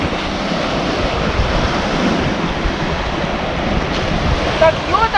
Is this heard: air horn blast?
no